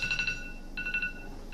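Electronic alarm beeping in short, high, steady-pitched tone bursts, two clusters of quick pulses and a brief restart, moderately loud over faint room noise.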